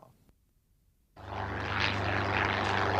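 A light Cessna plane lands on Red Square in Moscow. After a moment of near silence, a steady propeller engine drone cuts in loudly and holds close and strong with no voices.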